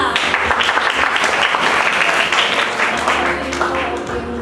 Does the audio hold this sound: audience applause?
yes